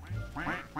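A duck in the Minecraft video game gives a short quack, a quick pair of nasal bursts, clear and isolated.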